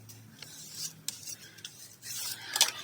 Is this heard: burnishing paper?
yes